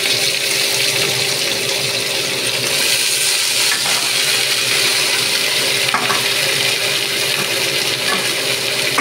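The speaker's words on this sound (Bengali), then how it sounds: "এবার আমি বাকি যে সবজিগুলো আছে সেগুলো তেলের উপরে ছেড়ে দিচ্ছি।" Vegetables for sukto fry loudly in hot oil with a dense, continuous sizzle, with a couple of sharp clinks from the pan partway through.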